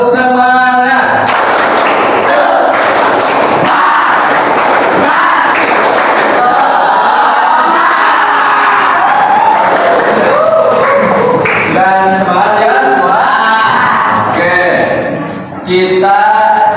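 Classroom of students performing a rhythmic clap chant together, with loud group clapping bursts and shouted chanting voices filling the room throughout, close and energetic.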